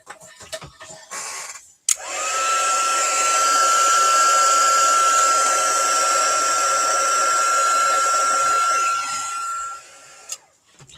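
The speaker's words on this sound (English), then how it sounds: "Oh, let me dry this." Handheld heat or air dryer blowing on a stamped craft card, a steady loud whir starting abruptly, holding for about eight seconds and then cutting off, with faint handling noises before and after.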